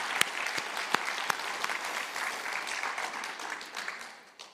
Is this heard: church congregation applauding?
yes